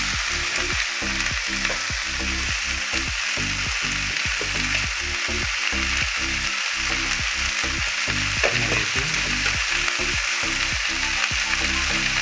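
Okra cooks in a pan with tomato, salt and a little coriander, giving a loud, unbroken frying sizzle close up, with a steady rhythm of stirring strokes underneath.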